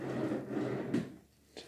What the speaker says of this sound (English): Seems like some nice drawers.